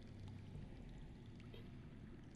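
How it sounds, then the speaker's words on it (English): Water rushes underground in a Game of Thrones video game, a low, continuous muffled rumble with a faint trickling wash on top, steady and unbroken. "That's water. I hear water. From underground."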